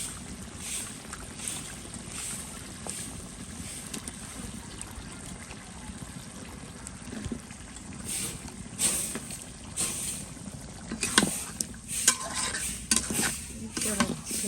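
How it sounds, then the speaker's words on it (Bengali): Curry frying in a pan, stirred with a spatula before a lid goes on, giving a continuous soft sizzle with irregular scraping and clattering strokes that grow busier toward the end, close by and without voices. "এটাকে ঢাকা দিয়ে ভালো করে একটু কষাই নেবো"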